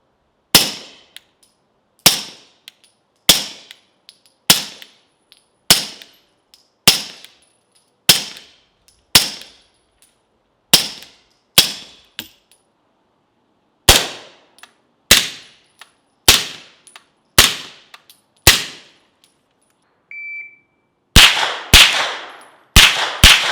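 Suppressed 9mm and .380 pistol shots through a Nitro N2O silencer crack out loud and sharp, about eighteen evenly spaced single reports with short ringing decays, ending in a tighter cluster of quick shots.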